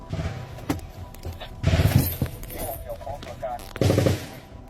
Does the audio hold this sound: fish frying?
no